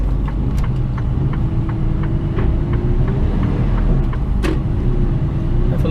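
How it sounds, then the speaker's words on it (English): An HGV truck hauling a very heavy container trailer drones loudly and steadily up close, with a drawn-out engine strain as the drive wheels spin and faint clicks over the rumble. "Like a bit of a wheel spin."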